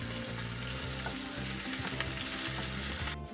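Tomato, ginger, onion and garlic fry in a pan, a loud, dense sizzle that runs steadily up close, with faint stirring scrapes and a low hum beneath.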